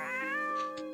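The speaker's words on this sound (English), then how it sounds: "Stop meowing!" A cartoonish cat meows loudly in a video game, one long drawn-out yowl with steady harmonics that bends slightly in pitch, followed by two short bright chiming blips near the end.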